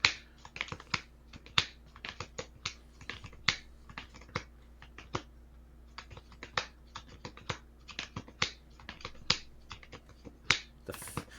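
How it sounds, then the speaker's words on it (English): A hand of trading cards is shuffled furiously during a tabletop card game, producing rapid, irregular crisp snaps and clicks at close range that continue steadily without talking. "The furious hand shuffle."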